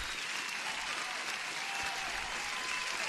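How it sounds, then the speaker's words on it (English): Dense, continuous applause, evenly sustained and moderately loud with no voices over it, played during a live futures day-trading stream. "Let me give an applause."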